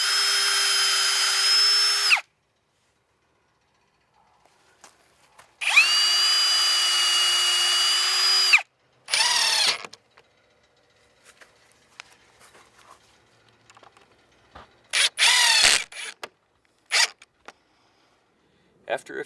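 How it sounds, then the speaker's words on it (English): Two long, steady bursts of a power drill whirring while pre-drilling deck skirting, followed by shorter intermittent bursts of driving 1 5/8 inch screws and handling sounds with pauses between. "I'm going to pre-drill and then install with 1 5/8 screws"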